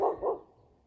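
A dog barks twice outdoors, two quick moderately loud woofs in close succession followed by quiet.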